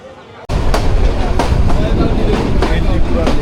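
A local train on the Dhaka to Kishoreganj line at Bajitpur station starts up abruptly with a loud, near rumble and rhythmic wheel clatter that continues steadily throughout.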